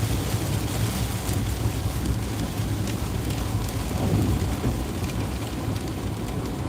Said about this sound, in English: Yeah, get rain like that.